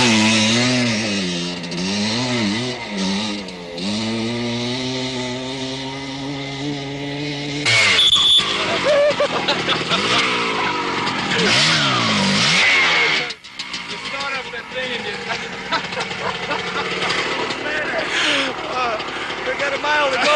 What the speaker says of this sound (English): I was nervous just getting ready to ride the little Harley up the dirt ramp